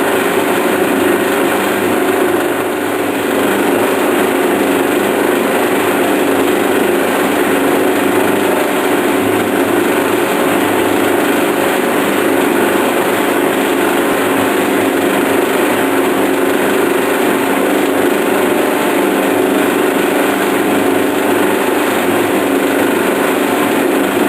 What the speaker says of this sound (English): now the drill's bottom's on stop, so what I need to do now is back the drill out, clean it up